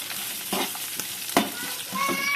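Dry red chillies and spices roasting in a pan for Chettinad chicken curry masala, a dry crackling sizzle with several scraping stirs of a spoon, close and alone.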